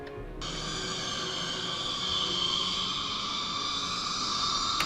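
Processed baby kitten cries turned into a horror game sound effect for Alan Wake, a sustained, shimmering, high tonal drone with a steady noisy bed, starting abruptly and holding for about five seconds.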